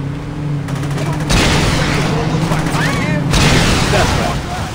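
Rapid gunfire bursts from a drive-by shootout in Saints Row, loud and close, mixed with a car engine and game noise; a voice talks over the shots.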